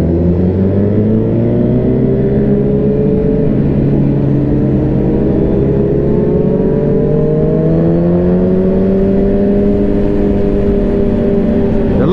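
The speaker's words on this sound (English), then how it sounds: "So we got Virginia State Police on motorcycles." Loud Virginia State Police motorcycle engines rumble past, their pitch rising and falling as several bikes ride by close together over a steady growl.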